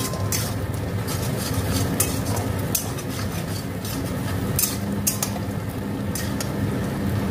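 Garlic and ginger frying in a pan for garlic fried rice, a steady sizzle broken by repeated scraping and clinking of a spoon as it is stirred, close and fairly loud.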